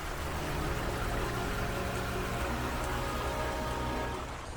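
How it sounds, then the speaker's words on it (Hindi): Steady rain falls at a garden with a small pond holding colourful fish and a small waterfall, a constant dense broadband patter and wash with no break and no voices. "बस यही बात है कि बारिश हो रही है।"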